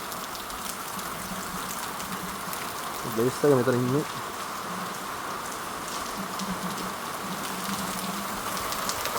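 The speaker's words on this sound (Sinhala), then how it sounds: "හොඳට වහිනවා මේ." Heavy rain pours steadily at a campsite, a constant wash of drops with a brief voice cutting in near the middle.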